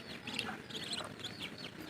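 Two small ducklings peeping and calling in quick, high chirps, scattered across the moment at close range with a soft background hiss and no talking.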